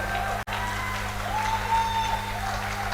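Audience applause for Reverend Ray after a praise session at a conference, a dense, steady wash of clapping from a crowd, broken once by a brief dropout, with no one speaking.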